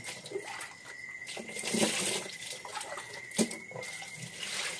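Tap water runs steadily while small tamban fish are washed for grilling, a continuous splashing stream with occasional louder splashes, close and alone.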